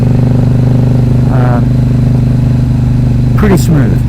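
A 2011 KTM RC8R motorcycle with Akrapovic exhaust, quick shifter and slipper clutch cruising in third gear, a steady loud low engine drone with wind noise, a person talking briefly over it.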